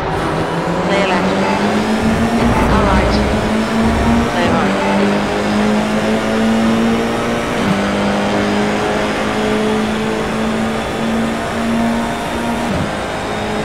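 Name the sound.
F4 race car engine at Spa in iRacing video game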